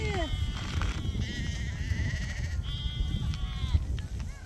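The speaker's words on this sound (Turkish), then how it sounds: "bizim buradaki Almanya koyunları" Several sheep on a farm in Germany bleat repeatedly at close range, overlapping calls with wavering pitch, over a low rumbling background.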